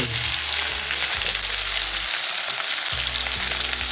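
Sliced onions and long-cut green chilies fry in a pan for aloo gobhi bhujia, a steady, close, loud sizzle with the crackle holding evenly throughout.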